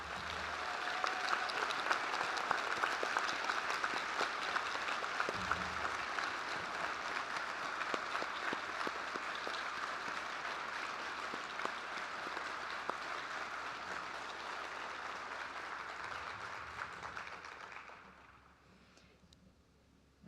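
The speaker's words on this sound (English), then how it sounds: "I think they all deserve another huge round of applause for that." Sustained applause from a large crowd, steady and full for most of the stretch, then tapering off near the end.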